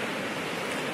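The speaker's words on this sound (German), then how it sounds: "dass die Wellen im Hintergrund nicht zu laut sind." Ocean waves breaking on a beach near Cape Town, South Africa, in fairly heavy, windy surf: a steady broadband wash of surf, moderately loud, with no voices.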